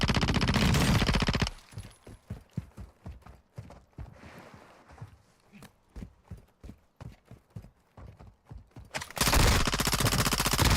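Call of Duty DMZ firefight erupts in sharp, rapid gunshots, many close single cracks and short bursts in an uneven rhythm, with loud game noise bracketing the exchange at start and end.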